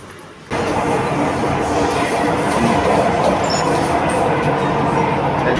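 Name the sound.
Chennai metro train in subway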